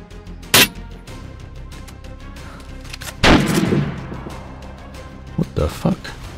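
Gunshots in the game DayZ: one sharp shot early, then a heavier booming shot that rolls into a decaying echo, followed by a few quicker cracks near the end, with a voice talking between them.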